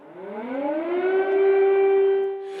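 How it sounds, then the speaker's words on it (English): A civil defense air raid siren in wartime Ukraine rises steadily in pitch and then holds a loud, sustained wail, with no voices. "the wail of air raid sirens has become ubiquitous"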